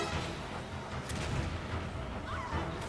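A dense, rumbling explosion in the Resident Evil 5 video game, a loud sustained roar with crackling bursts and a few sharp hits.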